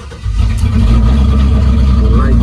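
A car engine with newly installed Dakota Digital dash gauges cranks and catches, then settles into a loud, steady running rumble close by.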